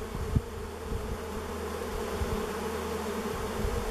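Honeybees in an opened beehive left shut for over 30 years, giving a steady close hum with a few sharp knocks and no talking.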